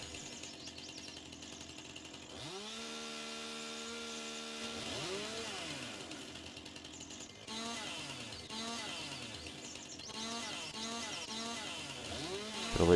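A chainsaw cuts limbs off a felled tree in a yard, a steady engine drone rising and falling in pitch as it revs through branches, with several short bursts in the second half.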